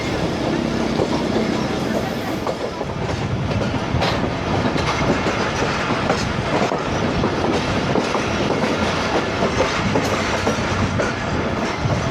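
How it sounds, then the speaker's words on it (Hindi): The 12DN Hazara Express running on rails as it nears Khanpur Junction in the heat: a loud, continuous rumble with rhythmic wheel clatter, heard from on board. "तो बस खानपुर जंक्शन पहुंच ही रही है ट्रेन"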